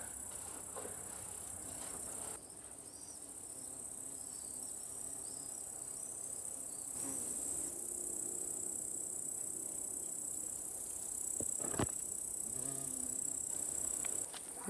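Crickets trill on an evening outdoors in a dense, unbroken high-pitched chorus, faint and distant, with a few soft knocks and shifts in the background and no voices.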